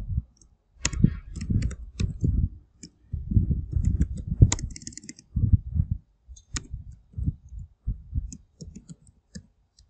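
Fingers type on a computer keyboard while entering text in MS Word, giving close, soft clusters of clicking keystrokes in uneven bursts with short pauses between them.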